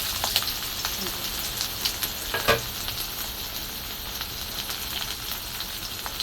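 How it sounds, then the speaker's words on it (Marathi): Chillies and onion frying in hot oil in a kadhai, giving a soft, steady sizzle with scattered small pops and crackles. It runs continuously at close range, with no talking. "आता मी इथं कढाई ठेवून घेतली त्यामध्ये तेल टाकून घेतलेले आणि बघा मिरच्या आणि कांदा टाकून घेऊन"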